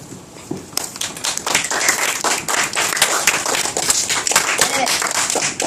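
Classroom applause for a student's presentation: many hands clapping in a dense, steady burst that starts softly and swells to full strength, close by, with some voices mixed in.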